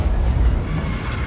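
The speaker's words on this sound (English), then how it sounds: "Now let's see if we can get a consolation shot into this guy" A heavy, low boom from the Skoda T56 tank gun in a video game, one loud, thick blast that rolls out and lingers briefly.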